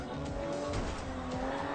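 Car drifting in the racing video game Forza Horizon 2, a steady engine roar with a sustained tire squeal over about two seconds, loud and continuous.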